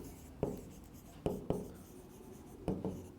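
Handwriting on paper during an accounting lesson: a few short, soft pen scratches and taps in irregular bursts, close and quiet, with no talking.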